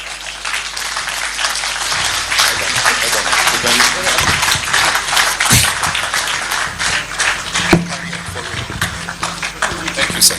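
Applause from the audience at a national spokespersons summit, a loose, uneven patter of clapping that rises and falls across the stretch, with murmuring voices and scattered sounds underneath.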